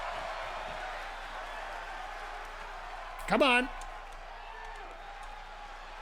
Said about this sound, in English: And I love that the crowd's fired up here.